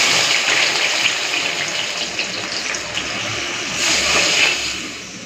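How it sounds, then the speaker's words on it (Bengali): Mustard paste mixed with water pours into a pan for a Bengali hilsa fish dish, a steady close gushing splash that swells again near the end, with no voices. "এখন দিয়ে দিচ্ছি এই সর্ষে বాটা জল।"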